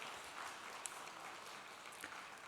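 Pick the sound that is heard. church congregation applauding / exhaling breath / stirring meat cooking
church congregation applauding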